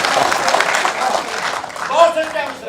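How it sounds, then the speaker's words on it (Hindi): An audience at an All India Mushaira poetry recital in Noida claps and cheers, a broad, rippling burst of applause mixed with voices that carries on steadily and swells slightly near the end. "एक बार जोरदार तालियां अपने लिए आप बजा लीजिए।"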